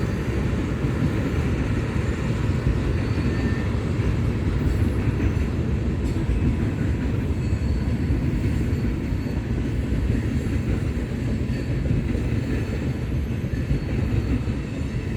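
A freight train rolls past on a single-track main line with passing sidings, a steady, loud rumble and wheel noise filling the whole stretch without a break.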